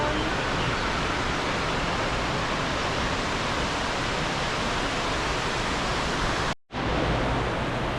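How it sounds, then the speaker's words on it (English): An indoor waterfall at Sam's Town Hotel & Gambling Hall in Las Vegas gives off a constant broad rushing roar, loud and even, with one brief dropout near the end. "Oh, there's a waterfall over there."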